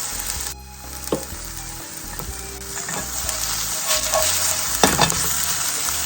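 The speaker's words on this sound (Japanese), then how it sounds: "レンコンをたまに返しながら少し焼き色をつけて焼いています。" Lotus root pieces fry in a frying pan with a loud, continuous sizzle, broken now and then by clatters as the slices are turned.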